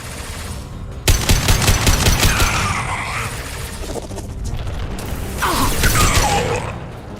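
Bursts of automatic gunfire in Mass Effect 2, a loud rapid volley starting abruptly and running for a couple of seconds, then a second shorter burst later, with mechanical clatter and whooshing effects between.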